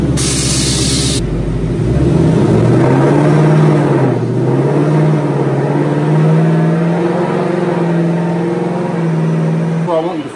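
A 2018-2019 Ford Mustang GT on a dyno revs at full throttle, its loud engine note climbing steadily through the gears after a brief hiss at the start, close and continuous until the end.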